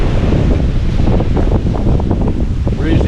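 Strong wind blows across the microphone outdoors on a homestead in Guimaras, a loud, steady roar and buffeting rumble that fills the whole stretch, with no talk over it.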